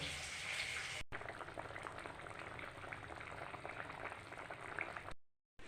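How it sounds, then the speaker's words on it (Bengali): Hilsa fish cooks in mustard paste in a pan, giving a continuous bubbling sizzle that holds steady for several seconds before cutting off abruptly. "এবার সর্ষে বাটা দিয়ে ইলিশ মাছ করব।"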